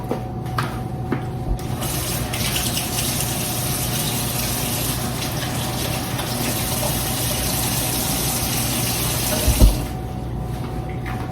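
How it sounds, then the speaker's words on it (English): A kitchen tap runs in a steady, close gush while hands are washed, with a few faint knocks and a brief splash near the end and no talking. "So let me give my hands a quick wash."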